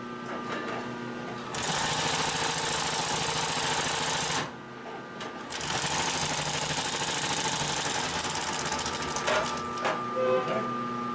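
A Consew 744R-30 long-arm walking foot sewing machine stitches through thick layered leather, running in a loud steady mechanical chatter, pausing briefly once and then resuming close up.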